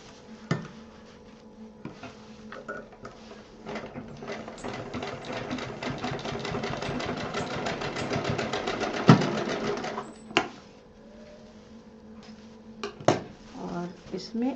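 Sewing machine stitching fabric for a handmade bangle case, a fast steady whirring run of needle strokes lasting several seconds, followed by clicks and handling clatter as the work is adjusted.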